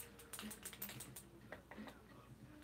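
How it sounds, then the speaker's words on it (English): Old-school graffiti paint markers having their nibs primed: a quick burst of light, rapid clicking taps up front, then a few more scattered clicks, quiet and close over faint background noise. "Let's go ahead and prime the nibs on these."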